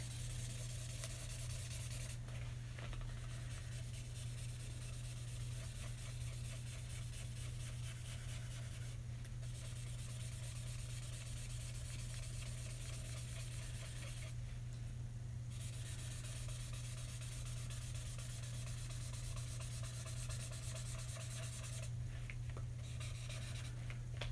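A marker scrubs back and forth on paper during a portrait sketch, producing a soft, continuous rubbing and squeaking close up, with brief pauses and a steady low hum underneath.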